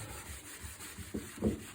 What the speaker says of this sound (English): I'll always give this a quick sand anyway.